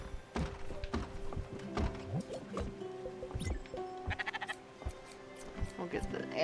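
Video game sheep bleat repeatedly among thunks and taps from farm chores, short wavering cries recurring across several seconds while a person talks over the game sounds.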